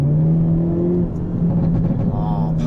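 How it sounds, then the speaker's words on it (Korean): A Hyundai Avante N in N mode with everything set to Sport Plus accelerates with a steady engine drone, while scattered exhaust pops and crackles burst over it and a person talks throughout. "팝콘 사운드 정말 코나 M보다 훨씬 크고"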